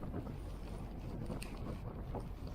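Strong wind of 39 knots gusting to 43 buffets the microphone in a continuous rumbling roar, joined by occasional creaks and flaps from an 82-foot boat riding rough water.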